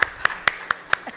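Six evenly spaced, sharp claps ring out close by, steady and deliberate, as if one or a few people clap on cue at an Indigenous Peoples' Resistance Day forum.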